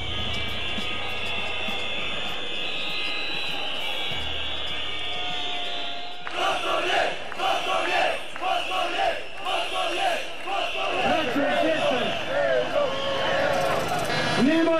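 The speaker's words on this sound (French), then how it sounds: "Ils descendent alors dans les rues, chantant « La Serbie s'est levée »." Crowd in the streets of Belgrade singing "Serbia has risen" during the overthrow of a dictator, a dense mass of voices chanting loudly and continuously, swelling into rhythmic surges after a quieter stretch of background noise.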